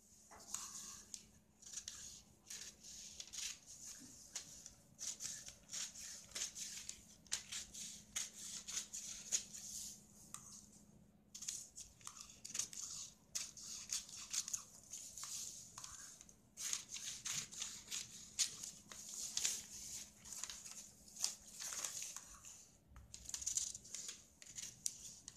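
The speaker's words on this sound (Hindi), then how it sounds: "अब बाहर की साइड से हम कटिंग करते हैं।" Scissors snip through blouse fabric during a katori blouse cutting, giving a steady run of soft, close crisp cuts and rustles of cloth with no talking.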